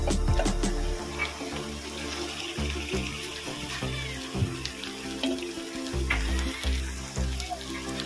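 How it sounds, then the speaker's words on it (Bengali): Marinated chicken going into a pan of well-fried onions, bursting into a loud, continuous sizzle with bubbling and occasional stirring clatter, close and steady, without speech. "পেঁয়াজটা আমি ভালো করে ভেজে নিয়েছি। আমি এর মধ্যে দেব ম্যারিনেট করা মাংস।"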